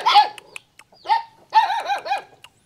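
A dog at a family home barks in several sharp, close bursts separated by short pauses, loud and clear with no talking over it.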